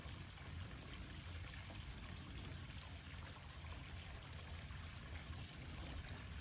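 Steady, dense rush of water cascading like a waterfall during rain, a continuous broadband roar with low rumble, constant and fairly close throughout with no voices.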